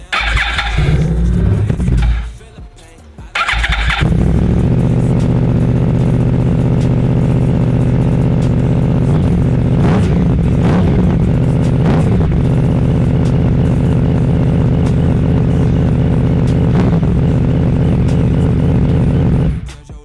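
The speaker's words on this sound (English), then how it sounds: "a little sneak peek of what this bike sounds like with this new exhaust" A loud Yamaha R1 sport motorcycle with an aftermarket exhaust growls and revs close by, cutting out briefly near the start, then settling into a deep, throaty idle with occasional blips of throttle.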